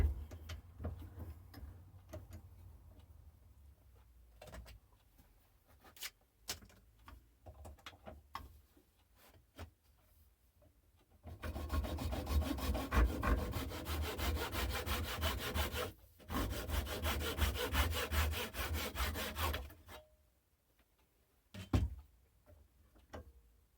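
A hand saw cuts through a length of wood for a homemade sanding stick: some quiet handling taps, then two long stretches of steady, rhythmic rasping strokes close up, with a short pause between them, ending in a few knocks.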